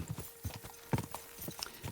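Horse hooves clip-clop in a steady, quiet walking rhythm in the medieval video game Kingdom Come: Deliverance II, heard alone without talk.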